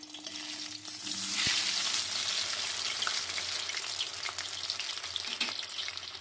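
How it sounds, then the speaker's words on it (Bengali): Eggplant slices fry in a pan for a Begun Maharani dish: a sharp clack as a slice is flipped, then a swelling, steady close sizzle that continues with small pops. "এটা একটু ভাজা হোক তারপর আরেকটা পিঠ উল্টে দেবো বেগুনের এক পিঠটা উল্টে নিচ্ছি"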